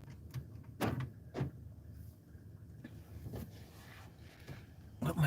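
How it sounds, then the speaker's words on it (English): Car doors are locked with a few short, sharp clunks spaced irregularly, heard close by. Faint rustling and a low hum fill the gaps between them. "lock the doors again"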